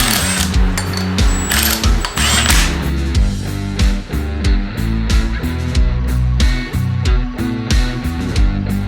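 A ratchet tightens four bolts on the rear plate of a rebuilt 7.3 Powerstroke engine from a Ford E-350 Econoline 4x4 van. Bursts of rapid clicking sound over steady background music.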